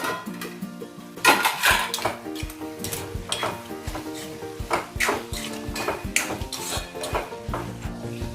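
Pots, lids and utensils clank and rattle repeatedly over a low sizzle while cooking methi and tur bean bhaji, with sharp metallic knocks scattered throughout at close range.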